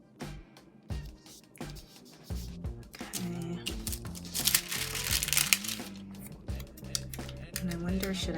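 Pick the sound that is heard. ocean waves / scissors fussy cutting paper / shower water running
scissors fussy cutting paper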